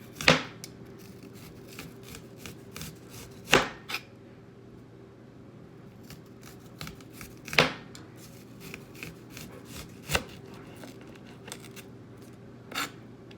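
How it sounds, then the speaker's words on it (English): A knife chops onions on a board, with widely spaced sharp single cuts against a low steady background hum. "So I'm going to be cutting my onions"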